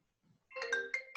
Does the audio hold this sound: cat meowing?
no